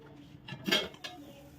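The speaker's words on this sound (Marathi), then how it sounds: "तर आता आपण ह्याच्यावरती झाकण ठेवून चांगलं वाफवून घेऊया." Lid set down on a pan of palak paneer gravy, a short metallic clink with a faint scrape around it, close and fairly quiet in a home kitchen.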